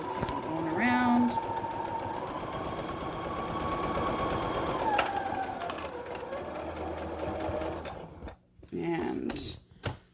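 A sewing machine hums continuously while stitching a three-layer face mask, changing pace as it turns a corner, then slows to a few short bursts for a back stitch, with occasional talk in the background.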